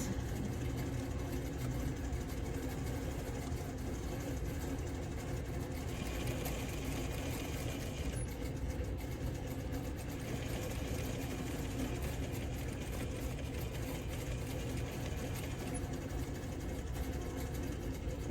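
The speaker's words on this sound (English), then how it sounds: "we'll just go to our sewing machine" A domestic sewing machine stitches a quarter-inch seam on a quilt block, running as a continuous faint motor whir with rapid needle clatter, steady and nearly unbroken for the whole stretch with no talk.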